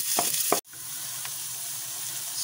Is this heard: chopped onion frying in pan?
yes